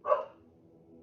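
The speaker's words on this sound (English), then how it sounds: "Dogs are barking." A dog gives a single short bark near the start, moderately faint and in the middle distance, then only a low, quiet background remains.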